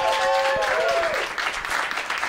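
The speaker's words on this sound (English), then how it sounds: "So give you guys yourself a round of applause for coming out." A stand-up comedy audience claps and cheers throughout, with a voice briefly audible at the start over the crowd noise.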